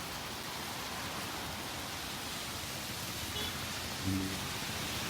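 Steady rain falling outdoors, a dense, even hiss of drops that fills the whole stretch at a constant level, with a brief faint bump of noise near the end.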